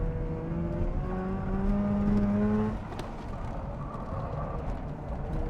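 A tuned Mazda RX-8 rotary engine revs hard on hot laps, its steady rising drone holding loud and close before the pitch drops sharply as the driver lifts, then climbs again.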